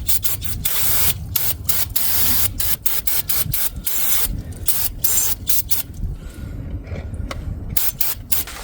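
Rapid scrubbing and rubbing bursts in irregular strokes as a car's rear wheel hub area is cleaned before a new hub goes in, close and fairly loud with no talking.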